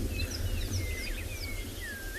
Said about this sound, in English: you might hear some beautiful bird calls